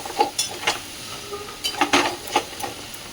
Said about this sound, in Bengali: তবে রাঙা আলুটা ভাজতে একটু টাইম লাগে, একদম লাল লাল করে ভেজে নেবো।